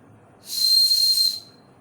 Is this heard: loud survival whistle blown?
yes